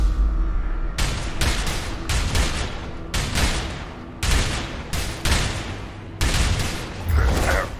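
Gunfire from the video game A Way Out rings out as a series of loud, close, booming shots, about a dozen in uneven rapid succession with short echoing tails.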